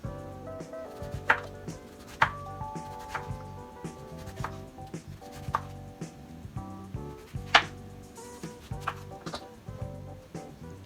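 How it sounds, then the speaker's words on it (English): A knife slicing through a lemon on a cutting board, with repeated crisp cuts at an irregular pace over faint background music, close and fairly quiet. "Slice the lemon."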